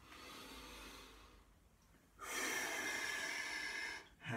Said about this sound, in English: you breathe in, and you exhale